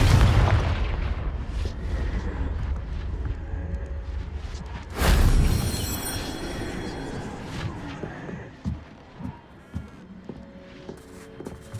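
In the Hogwarts Legacy video game, a Confringo curse explodes with a deep booming blast about five seconds in. A lower rumble comes first, and scattered thuds and game effects follow as the sound fades.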